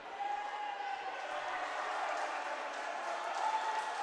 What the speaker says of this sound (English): Pine City, you can hear their crowd getting amped up, as are the Mora Mustang side